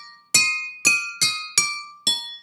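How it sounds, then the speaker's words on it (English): Several water-filled drinking glasses struck at once with chopsticks in a kitchen, ringing out five bright chords with sharp attacks and long glassy decays, alone with no talk. "if you play more than one glass at the same time"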